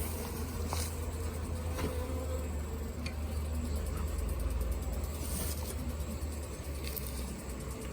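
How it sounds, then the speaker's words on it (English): Honeybees at an opened hive during a March inspection fill the air with a faint, steady low hum, with occasional soft ticks and taps from handling the frames. "There's a lot of bees there."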